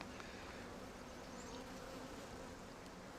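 Honey bees at an open hive during a brood inspection make a steady, close buzzing hum that holds even and continuous throughout, with no voices.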